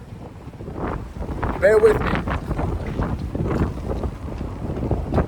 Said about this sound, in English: It's definitely more windy around here.